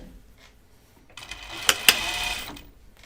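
A sewing machine sews an armhole seam on a 1940s-style dress, starting after a quiet pause with a brief whirring run and two sharp clicks, close and soft.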